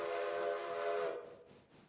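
A steam locomotive's five-chime whistle in a railroad video game, one sustained chord-like blast lasting about a second before cutting off, clear and moderately loud.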